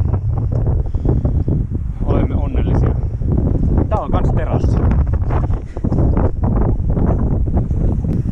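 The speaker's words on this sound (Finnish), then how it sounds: "varmaan mikrofonistakin kuuluu, niin käsittämättömän kova tuuli iski" Very strong wind in Svalbard buffets the microphone in a constant rough roar while a person talks over it.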